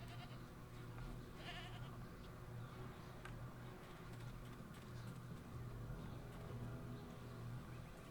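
Goats bleat in the Jade Empire video game, a few calls rising over a steady, droning game ambience with low hum throughout.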